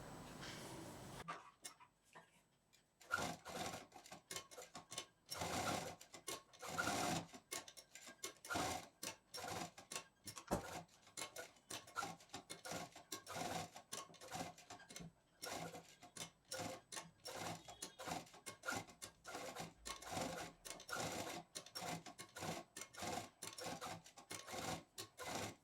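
A sewing machine stitches T-shirt fabric pieces for a baby quilt in short rhythmic whirring runs broken by pauses, faint and close, with no voices.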